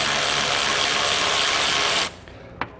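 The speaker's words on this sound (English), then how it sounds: "Pull off that top bolt." A power ratchet spins steadily and loudly, close by, removing a top bolt from the AC compressor on a 1996 Chevrolet OBS K1500 truck, then stops abruptly, followed by a single metallic click.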